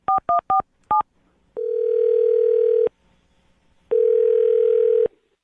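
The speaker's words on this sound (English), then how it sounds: "I'm going to dial the phone number to see if we get her on the phone" A telephone number being dialed as a quick series of touch-tone beeps, followed by two long, loud ringback tones separated by a pause, clear and close with no talk.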